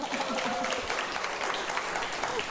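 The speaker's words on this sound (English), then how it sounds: "we make these poor people clap their butt off" A television studio audience claps loudly and continuously, a thick, even roar of many hands with scattered voices under it throughout.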